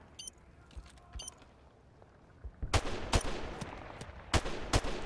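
Gunshots from Modern Warfare Remastered, a few faint distant pops at first, then a series of louder, sharper single shots in quick irregular succession.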